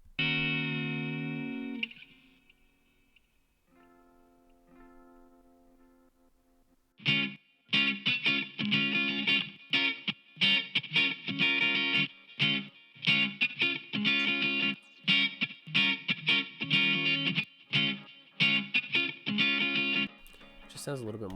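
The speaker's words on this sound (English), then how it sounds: "it just kind of creates a bit of a better delay" A music track with repeating echoing notes from a quarter-note delay plugin trailing off, following a brief quieter passage; the repeats give a layered, spacious delay feel.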